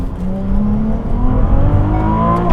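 A Ferrari 296 GTB hybrid accelerates with a loud, steady engine drone whose pitch rises gradually, heard close and continuous without talk.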